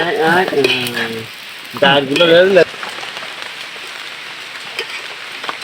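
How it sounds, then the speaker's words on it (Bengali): Monsoon rain pours in a steady, dense hiss across the whole stretch. Voices sound briefly near the start and again about a third of the way in, then the rain continues alone. "আবারও বর্ষা শুরু হয়ে গেল বন্ধুরা"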